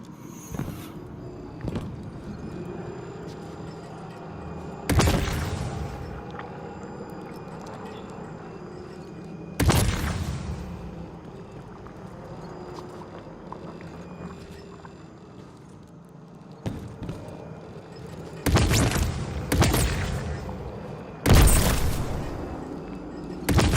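Heavy supercharged cannon blasts in the video game Destiny 2 boom out every few seconds, some in quick pairs, between stretches of low background rumble.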